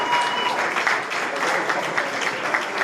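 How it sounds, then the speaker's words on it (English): Rapturous crowd applause greets Premier Mark McGowan arriving at a Labor campaign event in the Riverton electorate, a dense, steady roar of clapping filling the whole stretch with no voices on top. "A rapturous applause for Premier Mark McGowan as he arrives at the electorate of Riverton"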